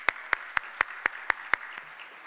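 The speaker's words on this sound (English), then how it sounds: "Let's give them a round of applause." Clapping for guests at a holiday luncheon, heard as seven sharp, evenly spaced claps from one nearby pair of hands over a quiet room, then stopping.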